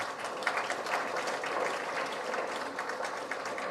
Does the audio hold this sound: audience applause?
yes